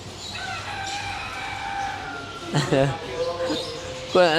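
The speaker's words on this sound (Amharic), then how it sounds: "ዶሮ አያችሁ?" Habesha chickens cluck and squawk in short bursts close by at a bird market in Dubai, amid a busy background with a few sharp calls toward the end.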